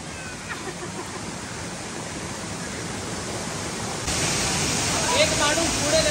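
A hidden waterfall in the Konkan near Sawantwadi roars steadily and close, a dense wash of falling water that grows louder partway through.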